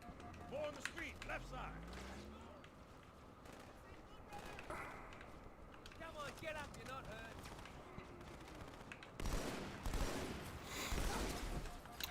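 Gunfire from the video game Halo 2 played on PC, with sharp shots and bursts through a noisy battle mix while someone talks over it.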